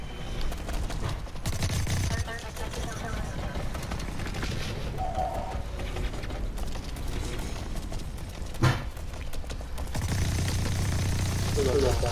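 Rapid automatic gunfire in the Blacklight video game, dense rattling bursts through most of the stretch with a sharp single shot, while players talk over it.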